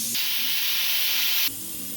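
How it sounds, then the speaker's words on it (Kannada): A pressure cooker cooking dal for sambar lets out a loud, close burst of hissing steam from its whistle, lasting over a second before cutting off abruptly. "ಬೇಳೆ ಬನ್ ಬೆಂದಿದೆ ಮೂರು ವಿಜಲ್ ಆಯಿತು"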